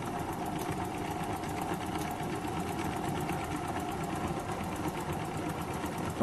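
Live steam powered wobbler model engine running under pressure with slight blow-off valve leakage, a fast, even mechanical chuffing and ticking rhythm, steady and moderately close with no talk.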